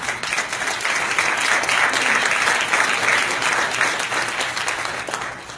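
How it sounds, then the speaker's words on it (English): A meetup audience gives a loud, sustained round of applause for the event's sponsors, a dense wash of clapping that holds steady and then tapers slightly at the end. "I want you to acknowledge our sponsors with a round of applause"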